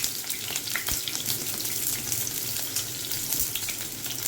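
Onions sizzling in oil in a pan over a low gas flame while making a koftа dish, a steady close crackling fry with faint stirring noises and no talking.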